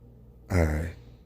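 A single deep breath drawn in close to the listener, a short airy rush that swells and fades within about half a second after a quiet moment.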